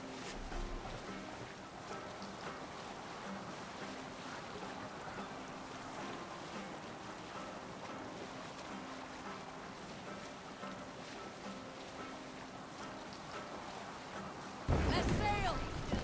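Sailing ship out at sea in Assassin's Creed Valhalla, heard as a steady wash of water and wind that runs unbroken throughout, rising to a louder burst of splashing in the last second or so.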